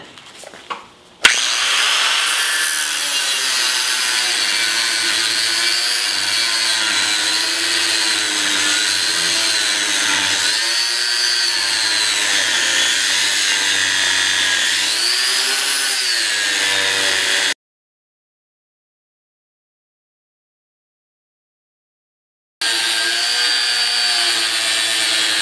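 A power tool cuts out parts for a stone mailbox build in a garage, droning loud and continuous with a wavering pitch for a long stretch, stopping abruptly for a few seconds, then starting up again.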